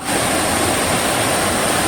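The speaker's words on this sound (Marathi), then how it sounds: "बघा छान धबधबा आहे बाजूला छोटासा" Constant rushing roar of the Amboli waterfall near Sawantwadi in monsoon rain, broad and steady, close by with no other sounds.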